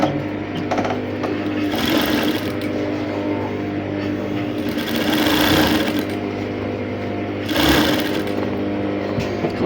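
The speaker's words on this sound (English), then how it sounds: "go to the sewing machine now and then sew it all around this design that we have" Sewing machine stitching two layered pieces of fabric around a structured sleeve design, a steady close mechanical whirring hum that runs almost continuously, swelling in short bursts as the stitching speeds up.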